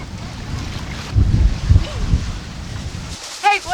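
A sailboat moving under sail through 11 knots of wind on the Sea of Cortez, with steady rushing wind and water noise, gusty buffeting on the microphone and a brief chirping sound near the end.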